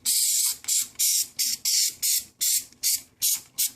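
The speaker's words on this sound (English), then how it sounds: "and spray down into the opening." 3M spray adhesive sprayed from an aerosol can into the opening under leather on an armrest cover, in about nine short, loud hissing bursts with brief gaps between them, nearby and with no talk.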